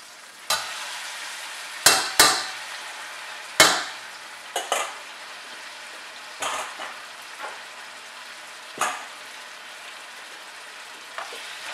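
Potato shreds and onion tossed in a wok, giving scattered scraping and clattering stirs with a soft sizzle underneath, irregular and moderately close, no voices.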